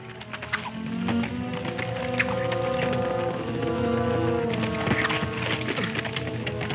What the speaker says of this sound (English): Listen, I hear horses.